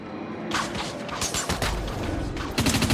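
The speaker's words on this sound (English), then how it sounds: "The assault rifle does 750 rounds a minute." Assault rifle in Dust 514 firing automatically at 750 rounds a minute, a fast string of crisp, close shots with a short break before another burst.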